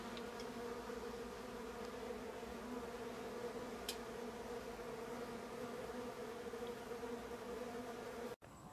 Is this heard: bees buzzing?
yes